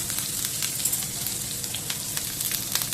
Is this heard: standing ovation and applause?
no